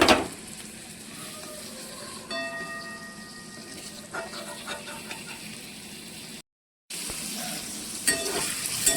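Paneer pieces lightly frying in a pan give off a steady, moderate sizzle with occasional soft stirring scrapes, continuing throughout apart from one brief silent gap, with no talking.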